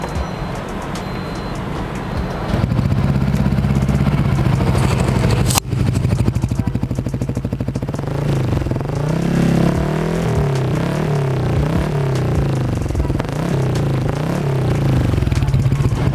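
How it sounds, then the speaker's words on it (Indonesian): A Honda Giorno scooter fitted with a modified Thai Salaya titanium exhaust idles and revs, a deep, bassy burbling drone that rises and falls in several throttle blips after a quieter start, close by and loud. "Nah, untuk suara knalpotnya"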